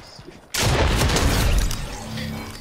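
A sniper shot cracks out sharply in a Fortnite match, a sudden loud blast after a quiet moment that trails off into a rumbling decay.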